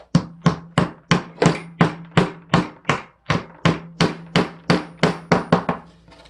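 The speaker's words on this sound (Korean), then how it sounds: "8mm 칼블럭을 끼워주는데 음, 손으로 넣는 게 쉽지가 않을 겁니다 그래서 망치로" A hammer strikes an 8mm plastic wall plug into a plaster wall with about eighteen sharp, evenly spaced taps, loud and close with no voices.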